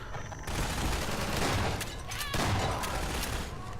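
Shotgun blasts and other weapons fire in Half-Life 2 during a rooftop battle against Striders, a loud, dense, near continuous barrage with heavy low booms and brief lulls.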